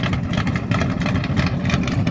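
A 1964 Ford Fairlane V8 engine with headers idles with a deep, steady, rumbling burble, close and continuous.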